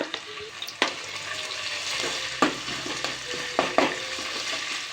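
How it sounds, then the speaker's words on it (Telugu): Sliced onions frying with ginger garlic paste in a pan for bagara rice, a continuous close sizzle broken by several sharp scraping stirs of the spoon, no talking. "ఇది మంచిగా జర ఫ్రై చేసుకోవాలి, కొంచెం కలర్ అనేది చేంజ్ కావాలి"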